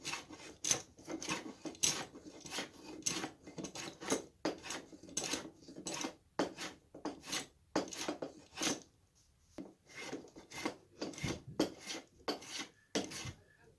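A rasp or file scrapes over a wooden chair part to smooth out saw marks, making a long series of rhythmic back-and-forth strokes, close and fairly quiet, with brief pauses.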